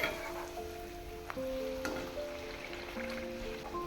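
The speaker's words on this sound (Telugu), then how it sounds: "ఆయిల్ వేడైన తర్వాత పూరీలను ఒక్కొక్కటిగా మంచిగా తిప్పుకుంటూ రెండు వైపులా కాల్చుకోవాలి" Puris deep-frying in hot oil, a soft continuous sizzle and bubbling, close and quiet, with a few faint clinks and no speech.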